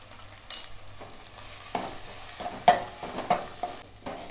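Chilli, coriander and turmeric powders with curry leaves sauté in oil for a crab curry, giving a soft sizzle broken by several distinct stirring scrapes and clacks, close and fairly faint, with no talk.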